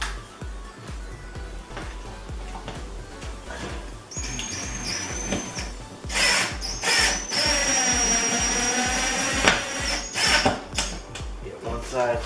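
A power drill drives screws into a wall to mount a microwave bracket over a range, with wall anchors instead of studs; the motor whines in several bursts, rising and falling, close by over steady background noise.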